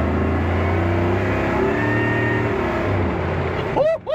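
A 3100 pickup truck powered by a Z06 engine accelerates hard, its deep engine note climbing and droning loudly from inside the cab, with a voice breaking in at the end.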